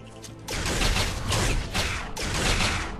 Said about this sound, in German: das wirkt alles wie ganz normale Schüsse